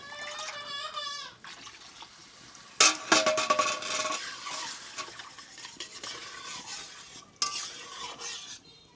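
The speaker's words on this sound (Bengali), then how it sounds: "এইবার এই যে দেখে পরিমাণ মতো ঝোলের জল দেওয়া হচ্ছে।" Water is poured into a pan of koi fish curry and stirred in, with utensil scrapes and clinks over a wet, bubbling wash, plus some quiet background sounds.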